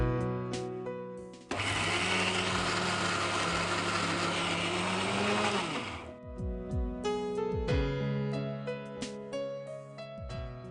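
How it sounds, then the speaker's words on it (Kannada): A kitchen mixer grinder grinds coriander, cumin, dried red chilli, grated coconut, turmeric and curry leaves: a loud, steady whirring roar runs for about four seconds, then cuts off, leaving clinks and rattles. "ಈಗ ಅದನ್ನು ಮಿಕ್ಸಿ ಮಾಡ್ಕೋಬೇಕಾ?"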